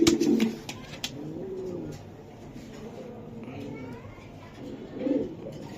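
Racer pigeons coo in low, rolling bursts at the start and again near the end, while someone talks over and between the calls.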